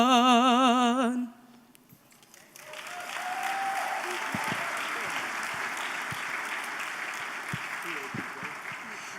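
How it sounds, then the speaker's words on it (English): Audience applause at a town hall on civil rights, a sustained wash of clapping that swells after a brief musical ending and carries steadily to the close. "Please give a warm round of applause for the Howard University Bison Battalion and Nia Aiana Meeks"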